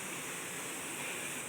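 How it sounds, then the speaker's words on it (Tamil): Boiled cooking water poured into a mixer jar while making dry fruit kheer, a steady soft rushing trickle that stays even and fairly quiet throughout, with no voices. "கொஞ்சமாக அந்த வேக வச்ச தண்ணி ஆட் பண்ணிக்கலாம்."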